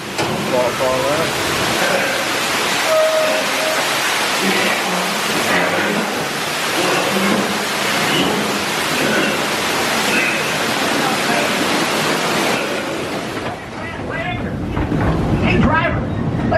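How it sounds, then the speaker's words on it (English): Steady rushing water from a waterfall at Knott's Berry Farm amusement park, mixed with broadband ride and crowd noise, with people talking over it throughout. "Waterfall there."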